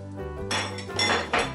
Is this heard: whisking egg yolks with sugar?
yes